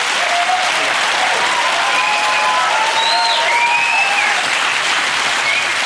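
Loud, sustained applause from a large studio audience on a comedy panel show, steady clapping filling the whole stretch with a few whoops rising over it.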